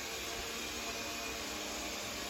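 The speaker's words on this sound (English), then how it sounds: "It even knows it can vacuum and has the clearance to fit underneath the bikes." An eufy S1 Pro floor-washing robot vacuum runs across the floor with a steady, close, broadband whirring hum and no talk over it.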